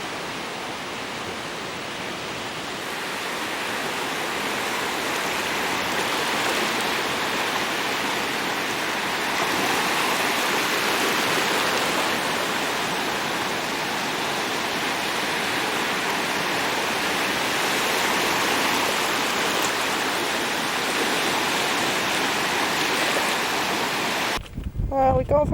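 Steady broadband rush of a creek flowing beside a campsite near the beach, a constant close wash of water running without pause, with a brief clatter at the very end.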